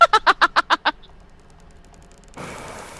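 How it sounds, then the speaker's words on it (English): Loud caged birds let out a run of seven quick, evenly spaced honking, quacking calls, then fall silent before a soft hiss rises at the end. "these birds are kind of loud"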